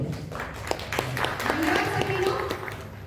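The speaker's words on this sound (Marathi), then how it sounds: "अशा आपल्या सुमतीताई करता जोरदार टाळ्या वाजवल्या" Audience applause fills a hall at the 5th Sahityasakhi state women's literary conference in Nashik. Steady, dense clapping runs throughout under a voice speaking over it.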